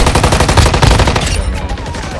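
Rapid automatic gunfire from Call of Duty Warzone Mobile, loud and close, a dense rattling burst that thins after about a second into scattered echoing shots.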